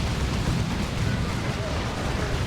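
A Tyranid Burrow Strike explodes in the real-time strategy game Warhammer 40,000: Dawn of War 2 during a Space Marines versus Tyranids battle, a dense, loud, rumbling blast that roars steadily throughout.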